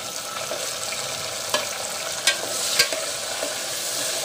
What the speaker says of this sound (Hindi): तो अब मैं इसमें डाल दूंगी ये सारे टमाटर